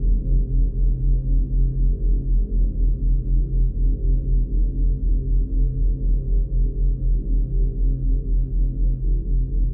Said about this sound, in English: specific binaural beat frequencies spread between your left and right ears